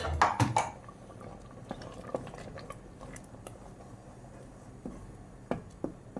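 Ground coconut paste going into a pot of erissery curry and being stirred, with soft wet scraping, a few clinks of a spoon against the pot and occasional louder knocks, fairly quiet and close.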